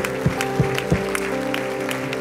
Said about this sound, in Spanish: Demos un aplauso al Señor esta mañana.